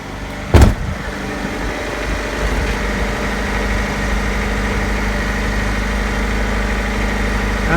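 An engine turns over with a brief clunk, then settles into a steady, close, rumbling idle that holds evenly throughout.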